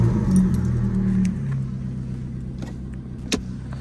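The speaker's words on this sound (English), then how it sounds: "so I'm going to turn the car on just to make sure it's working." A Vauxhall Corsa D is switched on, with a low engine hum and faint whine that settle down, followed by a few small clicks and a sharp click near the end.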